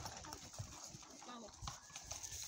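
Horses on an afternoon trail ride near Toulon-sur-Arroux in September, hooves clip-clopping faintly and irregularly on the path beneath steady outdoor noise and people talking nearby.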